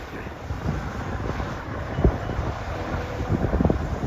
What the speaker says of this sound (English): Can you hear me over the wind?